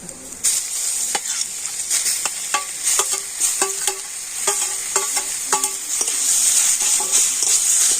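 Onion frying with boiled greens and potato in a pan: a bright, hissing sizzle broken by a rapid series of sharp spatula taps and scrapes on the pan, close and lively, without speech.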